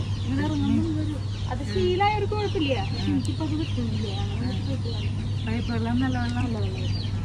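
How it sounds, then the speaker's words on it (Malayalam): Several chickens in coops cluck and squawk close by in overlapping bursts over a constant low hum. "അപ്പൊ ഇവിടെ ബാക്കിൽ കൊറേ കോഴികളുണ്ട് കേട്ടാ"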